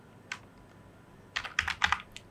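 Quick bursts of typing on a computer keyboard while text is entered into a jQuery code editor: one lone keystroke, then a fast flurry of clicky presses near the end, close and fairly quiet, with no voices.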